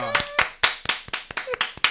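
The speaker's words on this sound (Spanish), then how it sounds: "¿Puedo aplaudir?" One person claps hands roughly ten times in a quick, slightly uneven rhythm, sharp and close, with a voice briefly heard at the start of the claps.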